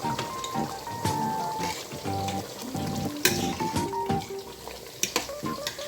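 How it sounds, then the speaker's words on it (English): Steady sizzling of plantain and beef frying in a pan, with crackles and pops and occasional clinks of a utensil stirring. "I'm frying my plantain and I added beef to it"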